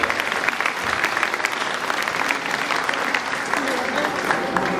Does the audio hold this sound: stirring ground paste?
no